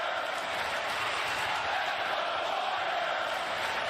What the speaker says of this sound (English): Boy, listen to that cheer. That's not canned noise.